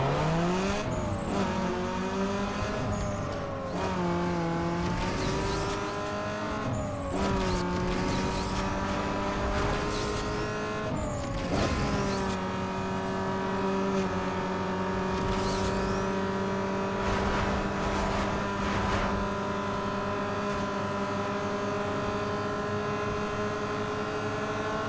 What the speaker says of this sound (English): let's just see how the Miata goes on a drag race